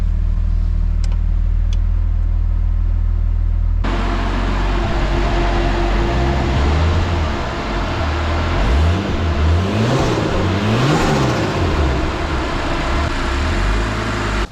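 A Nissan S13 with an RB25DET engine fires up after a brief quiet crank, then runs loudly close by with a rough, wavering idle and a few rising revs.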